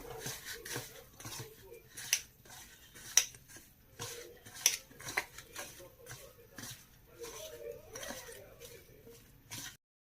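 A spoon scrapes and clacks against a pan as soybean matar masala is mixed with turmeric and red chilli powder, giving irregular metallic taps and scrapes at close range before stopping abruptly.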